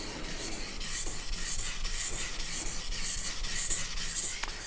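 A Chinese cleaver is stroked along a sharpening stone to raise a burr on its blade, producing a steady, rhythmic gritty rasp of repeated back-and-forth strokes, close and even.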